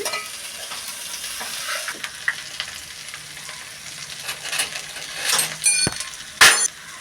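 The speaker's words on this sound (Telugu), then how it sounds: "ముక్కలు వేసి అలా కదిపి కొంచెం మూత వేసి ఒక ఐదు నిమిషాలు మగ్గిస్తే బాగా మగ్గుద్దండి" Okra pieces frying in a pan, a steady close sizzle with repeated spatula scrapes and a few sharp metallic clinks near the end.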